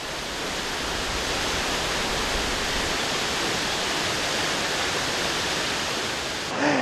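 A loud, steady roar of falling water fills the scene, a dense unbroken rush close by with no pauses, from Veliki waterfall at Plitvice, Croatia, in the rain.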